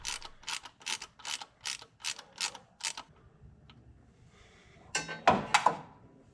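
A hand ratchet clicks in a rapid series of sharp bursts while loosening the oil drain plug on a 7.3 diesel OBS Ford truck, then pauses before a few louder clanks and scrapes as the plug comes free.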